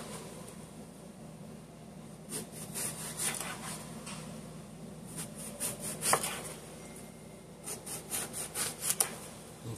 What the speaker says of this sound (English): So now I'm just going to go ahead and slice down my eggplants.